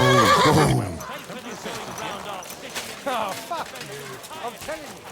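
A horse in the medieval video game Kingdom Come: Deliverance II gives a loud whinnying neigh at the start, then voices talk over the rest of the scene.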